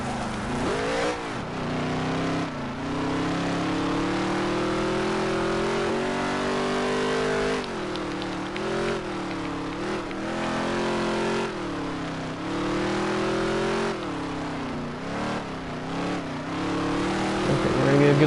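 A race car engine in a racing video game revs continuously at high volume, its pitch climbing and dropping repeatedly through gear shifts and corners, sustained for the whole stretch with no voice over it.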